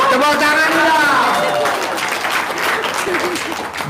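A crowd applauds at a business seminar, loud clapping over a babble of voices and a sustained sung or called-out tone early on, continuing evenly throughout.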